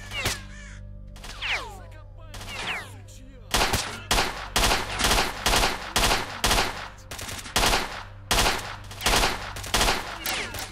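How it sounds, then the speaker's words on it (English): Rapid bursts of gunfire in the modded Stalker: Shadow of Chernobyl video game, loud repeated shots in quick succession after a few earlier crow-like caws and scattered shots. "Shooting everywhere."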